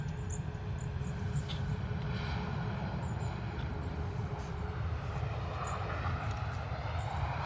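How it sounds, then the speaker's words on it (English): A Ryanair airliner arrives at London Stansted with a faint, distant low engine drone and a thin whining tone, while soft intermittent clicks and knocks sit on top. "Another Ryanair arrival."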